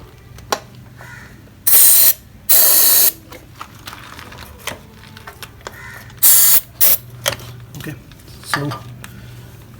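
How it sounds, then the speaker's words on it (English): Short hissing bursts of aerosol spray fire into the twin carburetors of a two-stroke Yamaha RD350 motorcycle, several loud blasts of a second or so each, mixed with metallic clicks and handling noises up close. "since the RD350 has 2 carburetors, I have to spray it in both carburetors"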